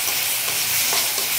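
Ginger, garlic and cumin paste frying and being stirred in hot oil, a loud, close sizzle with soft scraping of the spoon and no talking.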